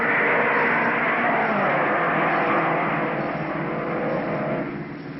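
Race cars roar around the track at the 1953 Indianapolis 500, a steady, loud engine drone with a car passing close by, fading slightly toward the end; no voices.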